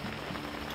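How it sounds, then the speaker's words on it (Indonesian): Rain falls steadily on surfaces at a lakeside campsite at Ranca Upas, Ciwidey, a dense even patter close by with no voices. "Hujan kayak gini, bentar lagi kayaknya udah meredas."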